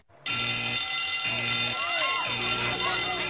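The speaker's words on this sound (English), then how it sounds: "Hey, that's the fire alarm." A loud, continuous cartoon power plant fire alarm starts abruptly after a brief quiet moment and keeps blaring steadily, with some background commotion mixed in.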